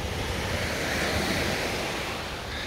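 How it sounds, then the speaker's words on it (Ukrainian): Sea waves wash steadily onto a Black Sea beach at Karolino-Buhaz near Odesa, a dense continuous roar of surf mixed with wind buffeting the microphone. "Подивіться ще раз на море."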